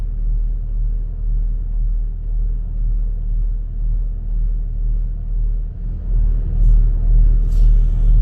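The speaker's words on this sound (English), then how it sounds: "We just fired the motors up" Boat motors idle and run steadily on a moored boat on a lake, a low continuous rumble holding even throughout with a slight swell near the end.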